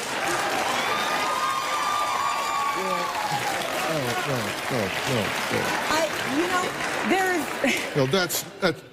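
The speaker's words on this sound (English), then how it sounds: "No, do not cheer that behavior." Audience cheering and applauding, loud crowd clapping and whoops with laughter mixed in, swelling and then tapering as a voice begins talking over the fading noise near the end.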